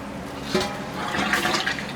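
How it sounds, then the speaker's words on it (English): Running water pours steadily for rinsing cucumbers and peppers, a continuous splashing wash with slight surges, close and fairly loud, with no talk. "We're going to get some clean water here, and we're going to rinse."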